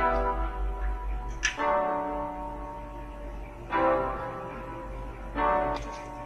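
Sustained piano chords ring out in a few separate strikes, full and warm with a clean, balanced tone and no voices.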